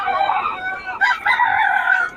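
A banded Sweater-line gamecock crows up close, one clear, drawn-out call with a brief break midway, standing alone against a quiet background.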